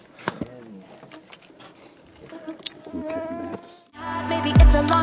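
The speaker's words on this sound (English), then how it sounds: "There's so many bugs." Insects buzz around a hiking trail near Tolmie Peak at Mt. Rainier, a steady drone running through the clip beneath people talking and moving, with louder wind or handling noise near the end.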